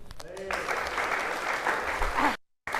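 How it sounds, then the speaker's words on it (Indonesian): Sustained clapping from a crowd at a morning meeting in a Denpasar office, dense and loud for about two seconds before cutting off, with a voice speaking at the start. "Aplaus dulu."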